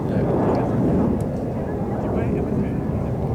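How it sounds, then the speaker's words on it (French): Airplanes pass overhead during an outdoor volleyball tournament in Paris, a steady low broadband roar that fills the whole stretch beneath continuous commentary. "vous entendez aussi beaucoup les avions qui passent au-dessus de nous"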